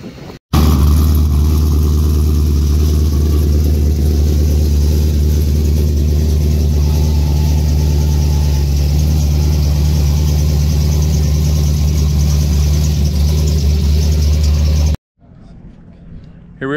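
Drift cars at Musselman Honda Circuit during Drift Week give off a loud, steady, close engine drone with a strong low hum that holds throughout, then cuts off abruptly near the end.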